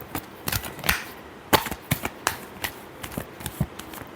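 Tarot cards being shuffled by hand, a run of crisp papery riffles and snaps coming in irregular bursts, close and fairly loud with no voices.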